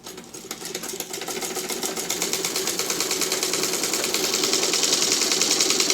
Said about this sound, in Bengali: এখানে প্রথমে একটু সেলাই দিয়ে নিচ্ছে দুটোর সঙ্গে একসঙ্গে, যাতে ছড়ে না যায়